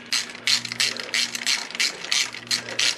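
Ratchet wrench snugging up bolts on a Honda VFR800 VTEC motorcycle, a close, crisp run of rapid clicking strokes repeated about nine times in an even rhythm.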